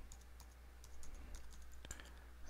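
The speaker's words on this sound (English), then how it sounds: "Type the password." Computer keyboard being typed on to enter a password, a quiet, brief run of light key clicks at irregular intervals, faint and close with low background hum.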